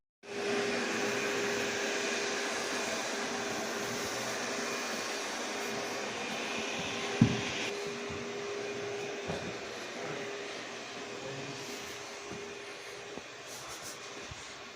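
A steady whirring motor drones on continuously like a vacuum cleaner, with a brief thump partway through and no talking.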